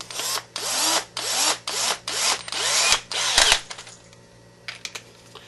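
Electric screwdriver with a 4 mm bit tightens screws while building an HPI Baja SS RC car, giving about seven short rising whirs in a steady rhythm, close and loud, then fading into a few faint clicks.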